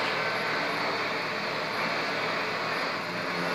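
A train in the video game GTA 5 rumbles past as a loud, steady broadband roar with no breaks, heard alone and without talk.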